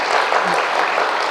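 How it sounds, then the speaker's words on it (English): A seminar audience applauds itself in a lecture hall: dense, loud, steady clapping from many hands filling the whole moment without a pause. "Now clap for yourselves"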